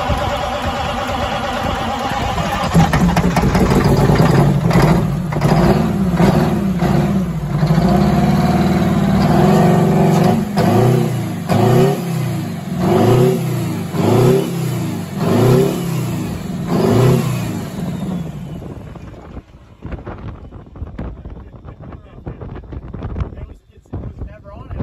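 An old Kenworth cabover truck that sat for decades cranks with a loud, rhythmic churning of the starter under heavy wind noise. It catches briefly, then dies off near the end.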